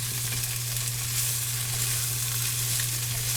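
Potatoes and sausage frying together in one pan, an even, loud sizzle with faint stirring scrapes over a steady low electrical hum, no voices.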